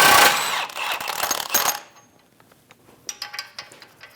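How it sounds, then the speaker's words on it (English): Loud power-tool whir from a 32mm socket spinning off the front axle nut of a 2016-2025 Chevrolet Malibu 1.5L, running for under two seconds, then quieter scattered metallic clinks and taps. "Using a 32mm socket, remove the axle nut."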